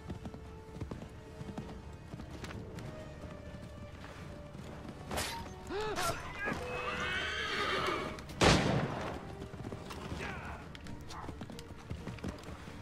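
A horse in the video game Assassin's Creed 3 whinnies loudly in the middle, with clip-clopping hooves and faint game ambience before and after.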